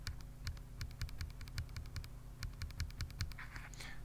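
Keys clack in quick runs of typing on a Feker Alice80 Corgi mechanical keyboard, crisp close clicks in bursts with brief pauses and no voice.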